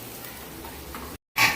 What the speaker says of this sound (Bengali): এবারে দিয়ে দিয়েছি কড়াতে একটুখানি জিরে ফোড়ন আর পেঁয়াজটা দিয়ে দিয়েছি।